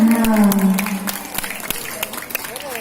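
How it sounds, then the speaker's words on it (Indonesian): An audience at a children's Quran quiz competition claps in a short burst of scattered hand claps that fades out, mixed with voices talking. "Tepuk tangan."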